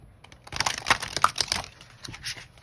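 Stiff tarot cards flexed and bridged by hand, a soft crisp crackling and riffling that rises and falls in bursts close by over a couple of seconds, with no talk.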